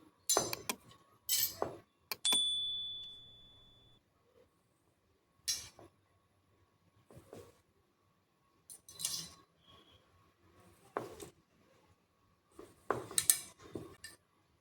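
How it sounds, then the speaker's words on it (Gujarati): A metal spoon stirs sev dough with spices and hot oil in a bowl, giving scattered, sharp clinks and scrapes that come in short bursts with quiet gaps between them, close and fairly faint. "તો આ રીતે ચમચીથી મિક્સ કરવાનું છે આપણે।"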